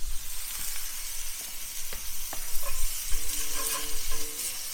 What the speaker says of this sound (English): Okay, so the balls are browning.